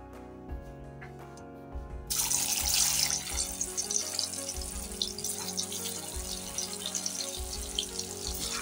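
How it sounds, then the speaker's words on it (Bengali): Paneer balls drop into hot white oil in a kadai and set off a sustained, crackling deep-fry sizzle that runs steadily over soft background music. "তেলটা ভালোভাবে গরম হয়েছে, এখন আমি পনিরের বলগুলো দিয়ে ভালো করে ভেজে নেব।"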